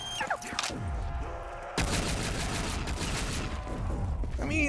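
Gunfire from a gun in a first-person shooter game: a sharp shot opens, then a heavier blast followed by a sustained rattle of rapid fire and mechanical clatter, loud and close with no talking.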